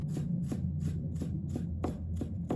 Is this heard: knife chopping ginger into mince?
yes